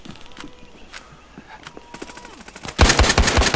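Rapid gunfire from the video game Battlefield Hardline: scattered single shots early, then a dense, loud burst of automatic fire in the final second, with no talk.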